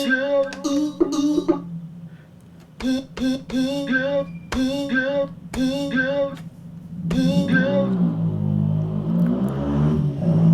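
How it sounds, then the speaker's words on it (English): A noisy motorbike passes outside, a low engine rumble that swells over the final few seconds beneath louder harmonic music and voice sounds. "Do apologise for the noisy motorbike."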